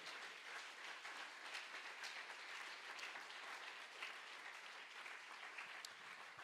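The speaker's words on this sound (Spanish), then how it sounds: "Dele un aplauso al Señor," A church congregation claps together, a dense, steady wash of applause that holds evenly for several seconds, heard faint and somewhat distant.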